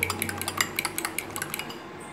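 Omelette egg mixture seasoned with salt and pepper being beaten in a bowl, with a rapid, even run of light metallic clinks as a utensil whisks against the bowl, close and clear, with no voices.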